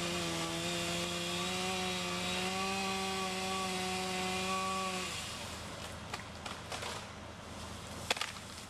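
Chainsaw with a 24 inch bar (a 46) making a top cut on a tree branch while the operator leans from a bucket truck; a loud steady engine drone for about five seconds, then it cuts off, leaving scattered knocks and rustles.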